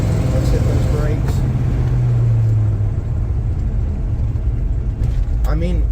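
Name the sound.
Chevelle car braking from about 50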